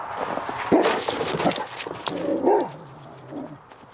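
A dog in a cold, windy winter outdoor setting makes yips and whimpering, whiny barks, close and moderately loud over blustery wind noise.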